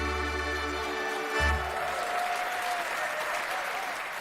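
Applause for a band at a Shetland accordion and fiddle festival, a warm, sustained clapping from a moderately distant audience, with a soft low thump early on.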